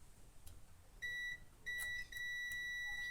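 A multimeter giving continuity beeps while testing a TIP 105 Darlington transistor: three steady, clear electronic tones of about a third to half a second each, close and alone over faint room noise.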